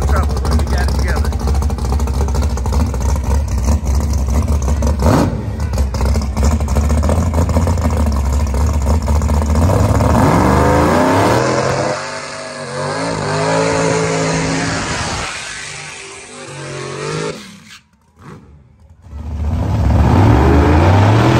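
A drag race car launches down the dragstrip at Atmore Dragway's grand opening, its engine building from a rough idle to a loud, rising roar that then fades into the distance, with crowd noise and voices around it.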